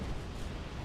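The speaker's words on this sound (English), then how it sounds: "Look out! Avalanche!" Avalanche rumble in the video game XIII, a dense, steady roar filling the whole short moment with no gaps, loud and continuous like a heavy rushing collapse of snow.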